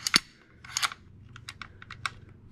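Metallic clicks and clacks of an ARES PPSh-41 airsoft submachine gun being locked back for takedown, a few sharp close clicks followed by lighter rattling handling noises, with no talking.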